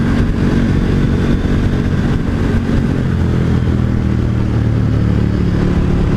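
A 2018 KTM 1290 Super Duke motorcycle being ridden in third gear, its engine a loud steady rumbling drone mixed with wind noise, continuous throughout.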